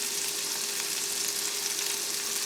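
Shrimp fried rice with sesame oil sizzles hard in a pan while tent cooking, a loud, close, steady frying hiss with faint pops throughout and no talking.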